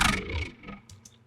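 A growl bass synth with formant EQs and Vocodecs saturation and distortion gives one thick, gritty, vowel-like burst. It starts loud and fades over about a second, with a couple of small high blips at the tail.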